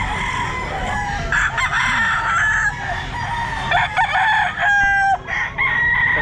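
Roosters crow repeatedly at a busy pet market, loud and close, with several overlapping calls and clucks over a constant hum of crowd and background noise.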